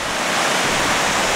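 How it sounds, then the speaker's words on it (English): Burgess Falls waterfall on Center Hill Lake, heard from a boat: a loud, steady broadband roar of rushing, falling water that fills the scene without a break. "There's the waterfall."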